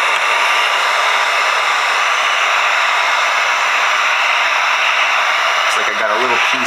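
Heat gun blowing hot air over a vinyl graphics wrap on a Traxxas TRX4 Sport RC body, a loud steady broadband whoosh that holds unbroken, briefly disturbed near the end.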